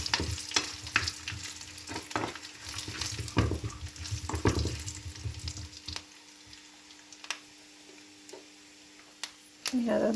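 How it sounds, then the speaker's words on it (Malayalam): Cashew nuts fry in a pan for payasam, crackling and sizzling with scraping stirs through the first half, then quieting to faint ticks and a final clatter; a voice talks briefly. "കശുവണ്ടി അത് വറുത്തെടുക്കണം."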